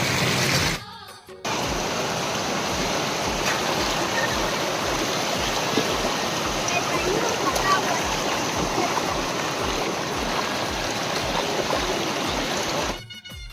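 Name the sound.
water flowing at a village dam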